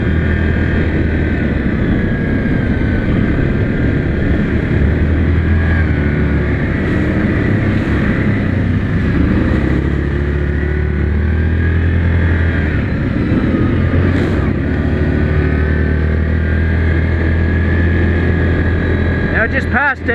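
Engine of a 2019 Yamaha Grizzly 700 ATV during a trail ride, a loud continuous drone with steady wind rush throughout, close up and unbroken.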